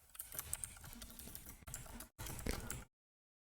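Rapid, close clicking of keys on a computer keyboard as code is typed, in quick irregular bursts with a brief pause before a final flurry.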